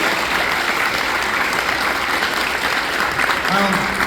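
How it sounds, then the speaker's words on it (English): An audience at an Honor Flight gathering at MacArthur Airport, Long Island, applauds in a steady, dense wash of clapping lasting a few seconds, with faint voices underneath. "I want to hear a round of applause for yourselves"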